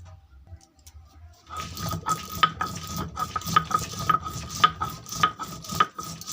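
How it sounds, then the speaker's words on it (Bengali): Dried chili and whole cumin are ground into a spice paste, with rhythmic scraping and grinding strokes starting after a quiet moment and repeating steadily, close by. "বন্ধুরা মশলাটা আমি সুন্দর করে পিষে নিচ্ছি।"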